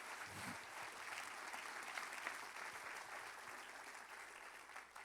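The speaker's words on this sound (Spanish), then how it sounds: "Dele ese aplauso al Señor si le va a dar un aplauso al Señor." A church congregation applauds steadily, a dense wash of many hands clapping that holds at an even level for several seconds with no voices rising above it.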